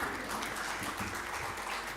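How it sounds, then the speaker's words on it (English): An audience at a workplace-safety dialogue event applauds, a soft, distant, continuous patter of many hands clapping with no break, heard faintly throughout. "give an applause to the ladies here"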